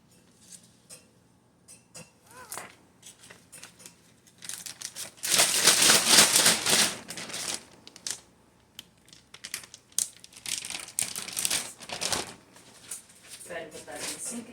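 A plastic bag of butcher-shop meat crinkles and rustles loudly in bursts while it is handled and packed, with a long dense crackling stretch in the middle and softer intermittent handling noises around it.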